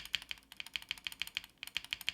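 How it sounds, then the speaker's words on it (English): Keys clack on a MonsGeek M1W aluminum keyboard, spacebar included, in a quick, even run of about a dozen crisp taps with a short pause partway through. The typing is close and clear, with no voices. "So the typing sound is absolutely gorgeous for all the keys, except for this spacebar right here."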